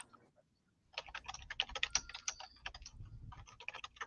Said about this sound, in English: I'll just listen to your keys click.